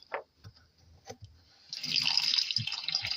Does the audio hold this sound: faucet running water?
yes